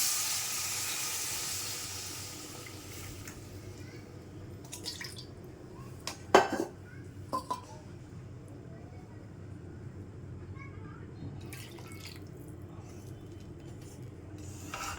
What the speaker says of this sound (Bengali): মাছ দিয়ে পরিমাণ মতো জল দিয়ে দেব